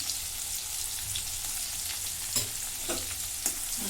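Kharda, a coarse chili paste, fries in oil with browned garlic in a kadhai, giving a steady bright sizzle broken by a few spoon scrapes and stirring knocks.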